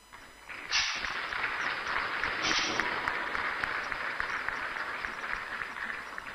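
A crowd applauds at the opening of Ghana's National Economic Dialogue 2025 at the AICC, a soft start swelling into sustained clapping that holds steady and then slowly thins toward the end.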